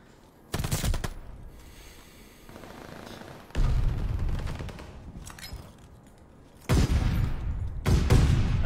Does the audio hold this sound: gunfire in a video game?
yes